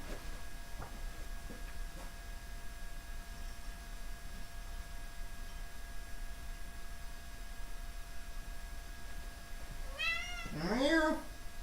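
A cat meows once near the end, a clear drawn-out wavering cry close to the microphone, after a long stretch of quiet room hum with faint small clicks.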